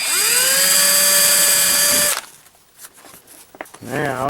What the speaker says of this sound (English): we're going to drill the holes for that.